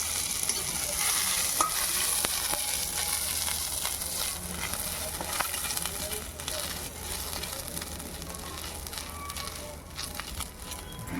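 Ginger and cumin paste frying in a pan, giving a steady, continuous sizzle with occasional stirring scrapes throughout.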